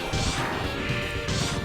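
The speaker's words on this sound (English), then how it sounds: "Break these cars here" Cars smashed in the video game Mega Man X ReGenesis: loud, dense crashing and crunching impacts in two bursts over a continuous, busy game soundtrack.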